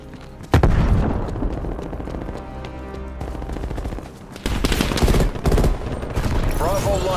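A frag grenade explosion and rapid automatic gunfire from the Call of Duty Cold War Miami map, with loud, dense bursts of shots and booms filling the whole stretch and a heavy blast surge near the end.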